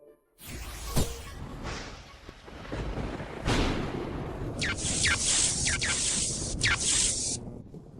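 Thunder sound effect in a drama: loud rolling rumbles with sharp cracks near the start and middle, followed by a long hissing, rushing wash of rain-like noise with repeated swooshes toward the end.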